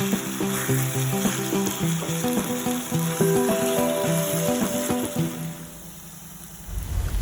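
Chettinad chicken chukka frying in a pan, a steady soft sizzle under tonal background music that fades near the end before a loud clunk.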